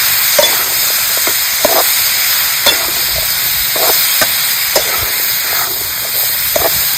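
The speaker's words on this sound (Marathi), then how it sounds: "आता शिजवून घेतलेलं घेवडं आपण ह्याच्यात सोडायचं. चांगला तुम्ही परतून घ्या." Steady loud sizzling and hiss of cooked ghevda beans being sautéed with onions in a pan for a dry bhaji, with intermittent scraping and stirring clicks throughout.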